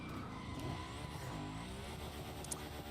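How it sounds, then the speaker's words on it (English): A racing car engine in the video game The Crew Motorfest, played on PC, revs with rising and falling pitch sweeps as it shifts through gears, quiet and continuous with a brief squealing touch near the end. "the best racing game I've ever played in the sense of the car feel, the car noises"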